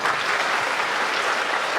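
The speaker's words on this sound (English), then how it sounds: "Let's welcome them with a smile and with loud applause." A school assembly audience breaks into loud, dense, continuous applause to welcome new teachers, a steady roar of many hands clapping with no voices over it.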